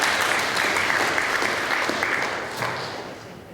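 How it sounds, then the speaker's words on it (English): An audience applauds at a presentation, a steady close wash of clapping that holds for a few seconds and then gradually fades. "Round of applause, please."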